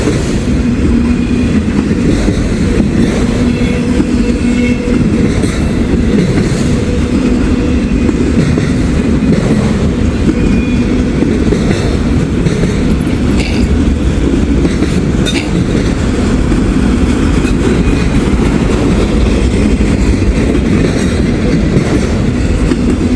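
A freight train carrying loaded auto racks rumbles past close by, with a heavy continuous roar and steady clickety-clack of wheels on the rails throughout.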